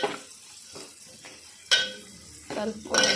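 Onions frying in a pan with turmeric, stirred with a spoon that scrapes and clinks against the metal in several separate bursts over a low sizzle.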